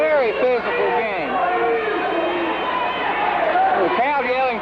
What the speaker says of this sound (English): The crowd yelling for an intentional, I believe, here.